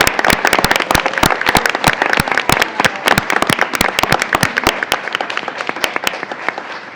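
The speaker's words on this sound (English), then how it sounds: "Let's give them a round of applause." A small group at a school board meeting applauds young authors, producing sharp, distinct, closely miked claps in an uneven rhythm that gradually thins toward the end.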